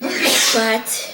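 A single sneeze, loud and close, bursting out over about a second, with a short voiced sound right after it.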